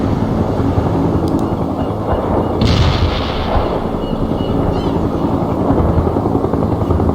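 Heavy artillery firing in the real-time strategy game World in Conflict, heavy booming blasts over a loud, continuous rotor-like battlefield rumble, with a sharper crack near the middle.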